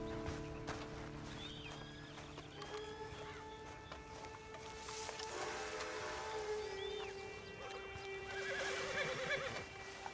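A horse whinnies amid Red Dead Redemption 2 Online game sound effects, with clip-clopping hooves and a steady background hum, fairly faint overall.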